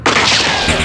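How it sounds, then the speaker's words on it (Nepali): A loud, abrupt burst of gunfire cracks out close by, a sharp blast with a rough rattling tail, standing alone without voices. "गोली पड्केछ सब है गोली"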